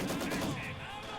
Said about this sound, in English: I just put a machine gun that is holding off 2 of their machine guns